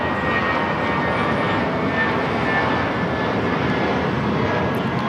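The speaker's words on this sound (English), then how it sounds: "Spirit Airlines 693 taking off to Las Vegas on the A320" Spirit Airlines Airbus A320 taking off from LAX, bound for Las Vegas: a steady, loud jet engine roar that stays broad and constant throughout, with no voices over it.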